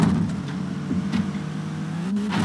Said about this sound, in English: Foot to the floor. Give me all the 200 something horsepower.